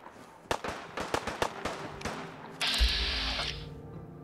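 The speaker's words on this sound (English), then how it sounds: "Who is shooting? What's with the shooting?" Gunfire in Fallout 4 comes as a quick run of sharp, loud shots, followed by a heavier rumbling burst that fades out.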